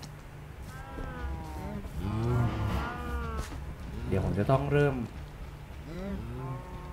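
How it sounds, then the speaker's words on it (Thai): Minecraft cows moo repeatedly in a crowded in-game herd of over twenty, several overlapping drawn-out lowing calls at moderate volume, with someone talking over them and a light rain-like hiss in the background. "โอ้โหวัวตอนนี้นี่น่าจะมีเกิน 20 ตัวแล้วนะครับ"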